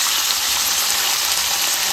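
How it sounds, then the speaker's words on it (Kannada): Onions with mint and coriander leaves fry in a cooker for veg pulao, producing a loud, continuous, dense sizzle close by with no pauses. "1 ಕೈ ಮುಷ್ಟಿಯಷ್ಟು ಕೊತ್ತಂಬರಿ ಸೊಪ್ಪನ್ನು ಹಾಕಿ ಫ್ರೈ ಮಾಡ್ಕೊಳ್ಳೋಣ"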